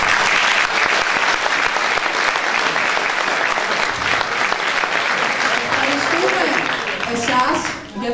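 Theatre audience at a carnival revue breaking into sustained, loud applause, a dense continuous clatter of many hands lasting the whole stretch, with a voice emerging faintly near the end.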